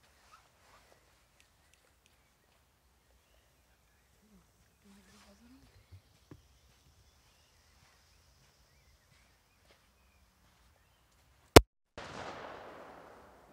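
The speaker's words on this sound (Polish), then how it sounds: "Jedną sobie postawimy. Zobaczyć jak ją rozrywa." A Dark Angel triplex TXP230A firecracker goes off outdoors on a damp, drizzly day with a single sharp, loud blast after a long quiet wait, then a brief hissing, crackling tail.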